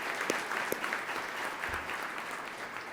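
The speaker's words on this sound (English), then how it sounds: "let's give her a round of applause" An audience gives a round of applause for a muralist at a civic club talk, with continuous, even clapping and a few sharper individual claps standing out.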